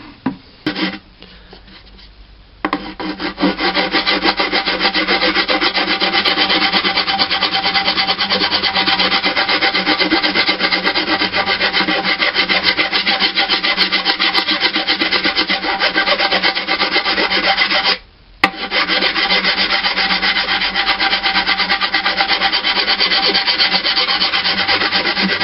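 Hand sanding of Bondo filler on an Iron Man helmet makes a loud, continuous rasping scrape, steady for most of the clip with a brief pause near the end and no talking.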